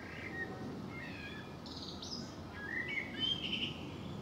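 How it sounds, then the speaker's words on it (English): Several birds chirp and tweet near Barden Lake on a woodland walk between Hever and Tonbridge, their short calls scattered over steady outdoor background noise. "Lovely bird, albeit very mischievous."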